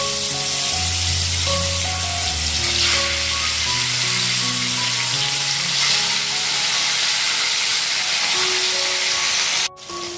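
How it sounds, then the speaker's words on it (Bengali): Pieces of rui fish fry in hot oil, a loud steady hiss and crackle that holds throughout with sustained musical tones underneath and a sharp click near the end. "আর তেল গরম হয়ে গেছে, আর এখন মাছগুলো এর মধ্যে দিয়ে দেবো।"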